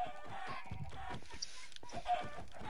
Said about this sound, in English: Chicken walked in front of me.